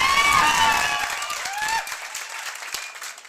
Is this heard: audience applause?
yes